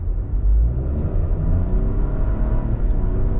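Chevrolet Trailblazer Activ in sport mode with all-wheel drive locked, its engine giving a steady low rumble heard from inside the cabin, swelling gently as it pulls, with no voices.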